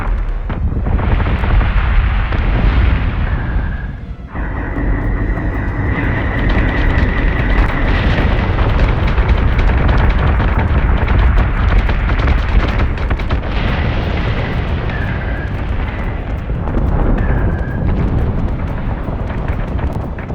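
Spaceship weapons fire and explosions roar continuously in the Battlestar Galactica Deadlock video game, loud and dense, with booming blasts and rumbling over a steady low din.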